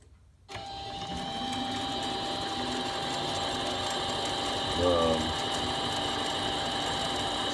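A mini lathe apron handwheel is cranked, running the carriage smoothly along the bed with a steady close mechanical whir and faint ratcheting of gears, plus a brief squeaky rise near the end.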